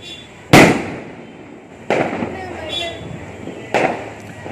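Three sharp, loud firecracker bangs go off during a Diwali celebration at home, spaced a second or more apart, each followed by crackling and a fading rumble, with voices in the background.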